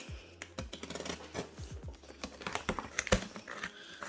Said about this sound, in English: just gonna use this X-Acto knife and just go across